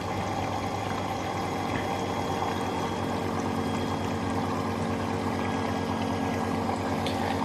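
Water pours steadily into a Bosch Exxcel 1400 Express washing machine during a woollens 30°C cycle, a constant rushing hiss with a low hum underneath, loud and unbroken, with no voices.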